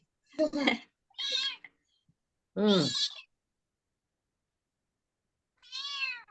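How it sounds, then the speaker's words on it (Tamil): Cats meow nearby in a quiet room, four separate plaintive cries spaced out with silence between them. "பூனைங்க ஆண்டி."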